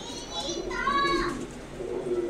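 Soft pigeon cooing, a warbling call rising in the middle, with faint background murmur.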